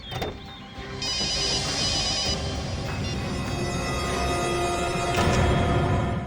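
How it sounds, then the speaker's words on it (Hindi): A steady electronic phone ring trills on and on at moderate volume, with faint background noise and no voices. "सर घंटी बज रही है"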